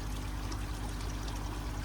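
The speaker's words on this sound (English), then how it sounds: "Gradually pour across the surface of the area of the pond over an hour's period." Pond treatment liquid poured from a watering can over a pond's surface, a steady continuous splashing trickle with no talking.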